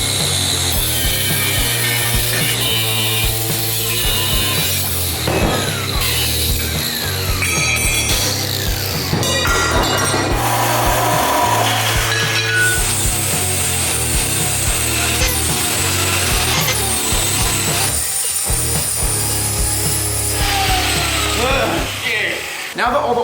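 A power tool cutting welded angle steel off an old Honda cart roll cage, grinding and screeching loudly and continuously with shifting pitch, close up, with no break.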